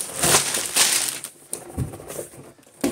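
Plastic Lego bags crinkling and crushing as they are opened from a set box, with loud, close rustling bursts coming in several uneven waves.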